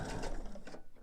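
A home sewing machine backstitches a mini quilt binding, giving a quick burst of rapid mechanical whirring stitches close by that slows and stops within about a second.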